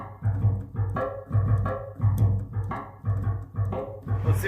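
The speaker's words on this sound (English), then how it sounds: "Now we got a really heavy drum kit." A heavy, low-pass filtered drum beat built from toilet lid sound samples pounds in a steady four-count loop, with thick, muffled thumps and short knocks repeating at an even tempo, no voices present.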